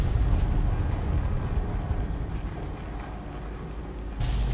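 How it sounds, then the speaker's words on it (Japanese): A heavy explosion in Fallout New Vegas with the Lonesome Road DLC, heard as a loud, deep, sustained rumble that roars continuously, dips slightly, then surges again near the end. "爆発してるよ。"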